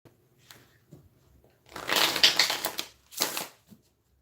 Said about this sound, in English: let me go ahead and shuffle and get that set up